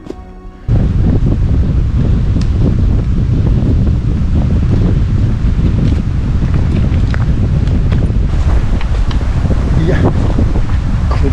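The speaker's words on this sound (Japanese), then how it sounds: "下りの時に限ってこんな冷たい風が吹いて" Cold wind blowing across a mountain ridge trail on Mount Ureyama, a loud continuous buffeting rush against the microphone that starts abruptly and keeps up without letup.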